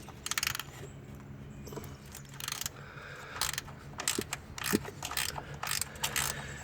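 Ratchet with a 10 mm socket clicking in quick bursts while loosening a ground bolt in the engine bay of a 2013 Hyundai Sonata 2.4L, close and crisp, several separate runs of ratcheting.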